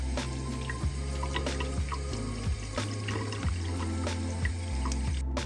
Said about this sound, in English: Since my strainer is small, I'll wash the quinoa in 2 batches.